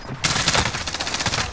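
Rapid automatic gunfire in Call of Duty Warzone erupts after a brief quiet start, a dense burst of loud, closely spaced shots rattling on for over a second.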